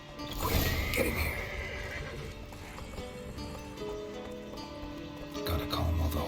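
Horses in The Witcher 3 neighing and whinnying loudly, mixed with clip-clopping hooves nearby, with a second burst of whinnying near the end.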